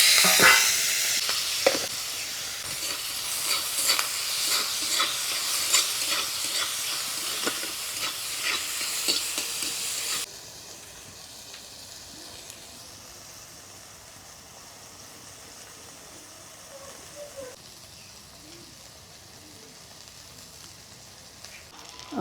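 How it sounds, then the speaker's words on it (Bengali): Apple snails frying in mustard oil with salt and turmeric in a wok give a loud, dense sizzle and hiss for about ten seconds, then settle into a much quieter, steady crackle with no talking. "কড়ার মধ্যে একটু সরষের তেল দিয়ে দিব গুগলিগুলোকে একটু ভেজে নেব নুন হলুদ দিয়ে"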